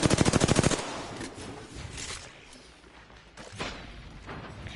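Automatic weapon fire from the video game Apex Legends: a rapid burst of about ten evenly spaced shots at the start, then fainter distant shots and thuds scattered through the rest of the clip.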